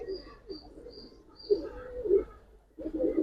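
Pigeons, including Giribaz and coloured birds, coo nearby in soft, throaty bursts with pauses between them, each rising and falling, with faint higher chirps above and no speech.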